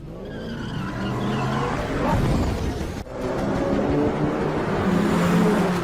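Car tires skid and squeal during a car chase in a Korean drama, a loud sustained screech with engine roar, one sharp break midway.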